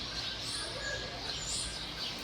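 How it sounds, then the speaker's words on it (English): Buffalo weaver birds call at a zoo, with faint chirps rising through steady outdoor wind and background noise. "So this is a buffalo weaver right here."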